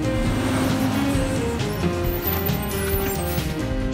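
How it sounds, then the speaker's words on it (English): A mini excavator's engine runs with a continuous, dense mechanical drone and rumble, steady and loud throughout with no pauses. "Five, for the mini excavator"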